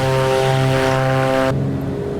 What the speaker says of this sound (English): You might not be able to hear me. The sound of these engines.